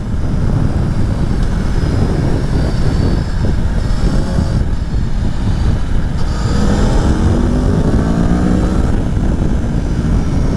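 A 2021 Aprilia Tuono V4 1100 Factory motorcycle engine roars steadily while riding on the road, rising through revs under heavy wind rush, with shifts and pitch sweeps toward the end.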